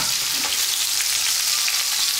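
Chicken frying in a pan sputters with a dense, even sizzle, close and constant, with no talking over it.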